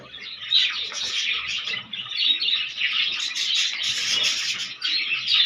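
Dense, continuous chirping and tweeting from many chicks and adult birds kept in breeding boxes, a busy overlapping chorus that stays loud and near throughout.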